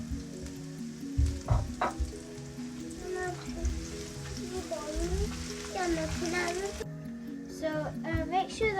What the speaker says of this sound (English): make sure that your onions are finely chopped and that you have cooked them in the oil until they have turned golden brown